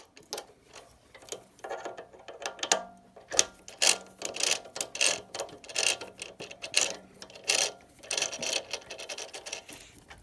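A three jaw chuck on a metal lathe is wound tight, giving irregular metallic clicks, ratcheting and scraping as the jaws close on the work. The sound is close and alone, with no talk.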